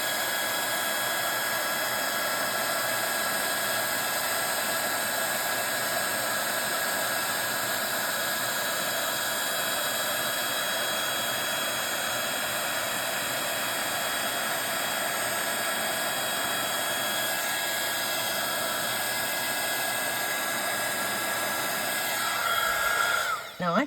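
A heat tool for heat embossing blows a steady, loud whooshing hum close by for the whole stretch, with a slight change in tone as it is moved near the end.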